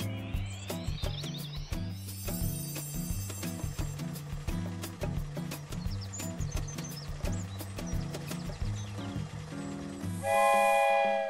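A cartoon train chugs along in a bouncy, steady rhythm with music, then a loud train whistle blows near the end.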